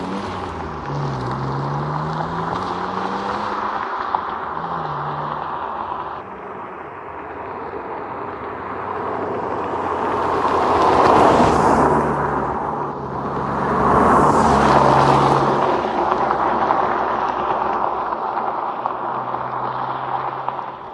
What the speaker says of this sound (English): So we're finally driving the Z3.